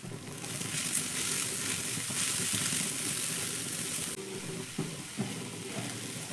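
Mixed vegetables sizzle steadily in a hot pan as they are stirred with salt, turmeric and chili powder, with a continuous close frying hiss and occasional scraping stir strokes.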